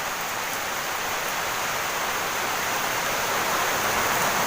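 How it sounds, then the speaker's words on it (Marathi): Light rain falls in a soft, even hiss that holds steady throughout, with no voices. "म्हणजे एक 5 मिनिट झाले पाऊस पडतोय बारीक बारीक"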